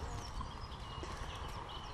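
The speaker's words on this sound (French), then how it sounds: "Quel beau chevaux." Horse hooves clip-clop on a road outdoors in Normandy, a steady rhythmic patter of steps under broad background noise.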